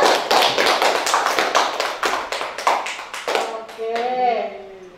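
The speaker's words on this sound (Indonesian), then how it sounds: "tepuk tangan sekali lagi ya" Students in a classroom clap in a quick, loud, uneven burst of close handclaps lasting a few seconds, which then stops as a voice begins speaking.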